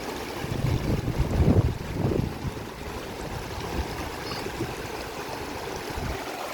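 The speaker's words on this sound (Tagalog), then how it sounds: "Malakas man ang agos." A strong river current flows with a steady broadband rush, plus some wind buffeting on the microphone that is heaviest in the first two seconds. No one speaks.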